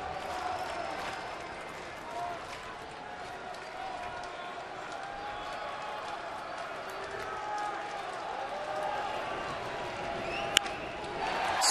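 A baseball stadium crowd in Toronto, during a Tampa Bay at Toronto game, roars steadily and swells into cheering, a dense wash of many distant voices that builds toward the end.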